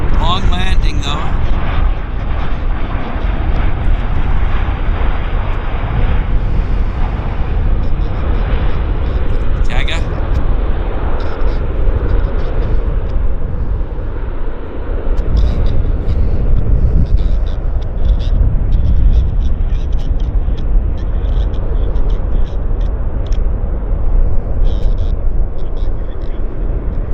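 An airplane lands at Vancouver Airport in gusty wind, with a continuous loud roar of jet engine and wind noise lasting throughout. Faint higher tones and crackle sit on top of it.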